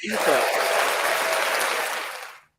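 A crowd claps steadily for about two and a half seconds, dense and fairly loud, with voices mixed in before the applause fades out.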